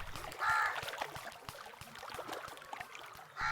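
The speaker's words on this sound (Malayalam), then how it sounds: "അങ്ങനെ കര കണ്ടെത്താനായി നൂഹ് നബി ഒരു കാക്കയെ പറഞ്ഞുവിട്ടു." A crow caws a few harsh times over faint watery background noise, short and moderately near, with no voices.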